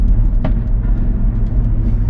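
A new car is driven along a road with a close, steady engine drone, and a brief surge near the start suggests a downshift from fourth to third. There is no talking over it.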